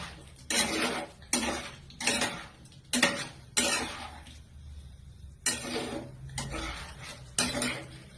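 Potatoes and slit green chillies stirred in a pan for a vegetarian aloo dum, producing about eight rhythmic metallic scrapes and clanks of a spoon against the pan, close and fairly loud over a faint background fry.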